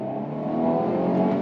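A Mercedes E300 with a 2.0 turbo engine revs steadily for a moment, a continuous close engine drone that holds and rises slightly in loudness, with no voices.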